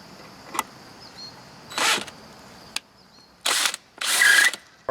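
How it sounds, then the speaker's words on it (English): A bolt on a homemade hang-on treestand being tightened with a 5/16 socket ratchet and an adjustable wrench, several short bursts of clicking ratchet mechanism separated by pauses, close and moderately loud. "we got that bolt tightened"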